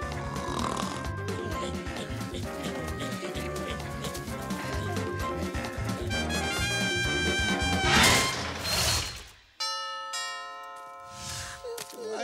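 A cartoon character in a German animated Daltons episode snores loudly in long rumbling breaths, followed by chiming bell-like tones and a sudden cutoff.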